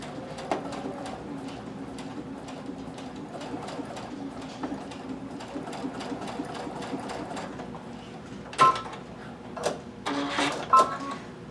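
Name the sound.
sewing machine stitching in twin needle mode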